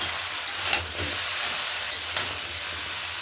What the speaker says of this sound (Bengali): মশলা ভালো করে কষিয়ে নিতে হবে।